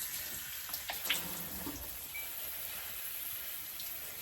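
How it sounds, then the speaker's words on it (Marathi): Tap water running over a potted orchid, a steady close splashing stream of faucet water that continues without pause, with no talk. "रनिंग वॉटरच्या खाली हे आपल्याला पकडायचं आहे"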